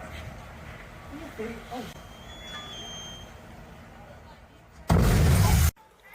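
An explosion during an apartment fire in Tacoma bursts out as a loud, roughly one-second broadband blast near the end, following a stretch of quieter outdoor ambience with faint tones.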